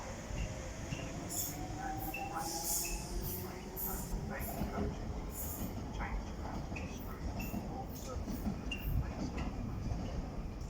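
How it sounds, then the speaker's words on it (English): A DLR train departs Greenwich station, heading for Lewisham: a continuous rolling rumble with rhythmic wheel clicks over rail joints and faint squeals, heard at moderate distance under steady station background. "off goes the DLR service to Lewisham"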